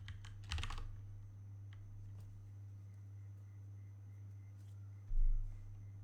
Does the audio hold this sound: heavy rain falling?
no